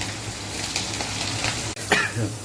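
Soaked chana dal frying in oil for lemon rice, a continuous close hiss and crackle with a brief scrape of a spoon partway through.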